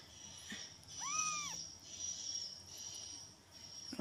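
A male kitten, thrown away in the trash, gives one thin, rising-and-falling meow at close range over a faint background of insects and soft outdoor noise.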